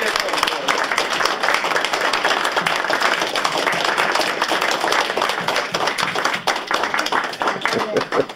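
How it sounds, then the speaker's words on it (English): An audience applauds and gives a standing ovation after a World War II veteran's talk, dense continuous clapping sustained throughout, fairly loud with crowd murmur mixed in. "I think we should give him a round of applause and a standing ovation."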